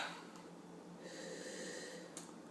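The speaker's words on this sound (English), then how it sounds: "A little sniff here" Someone sniffs a glass of red wine, a soft close nasal inhale with a brief snort-like breath, quiet and alone against faint background hiss.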